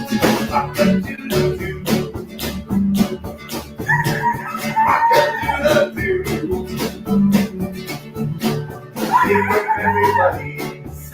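Several people mimic a rooster's cock-a-doodle-doo with their voices, a few drawn-out rising and falling calls over a steady rhythmic backing track, fairly loud and close.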